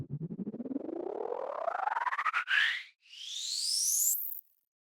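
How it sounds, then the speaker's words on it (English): A synth riser built in Ableton Operator from white noise with grain delay sweeps steadily upward in a pulsing, stuttering rise, then breaks off briefly and climbs again to a high whistling peak before stopping. "So the next thing that I have here is this little riser"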